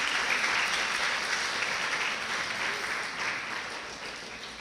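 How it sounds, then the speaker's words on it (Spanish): A church congregation applauds at a Spanish-language sermon, a dense, steady wash of many hands clapping that holds for several seconds and tapers slightly toward the end, with no talk over it. "un fuerte aplauso, por favor"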